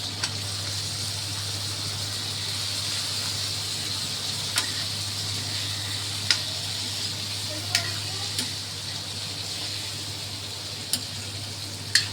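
A pan of methi with spices and water cooks on the stove, giving a soft, steady simmering hiss broken by a few sharp utensil clicks.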